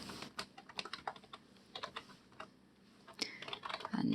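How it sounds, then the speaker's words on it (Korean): Typing on a computer keyboard, a quick irregular run of crisp key clicks and taps heard close and alone, with brief pauses between bursts. "첫 시간이기 때문에 쭉 직접 타이핑을 해보도록 하겠습니다"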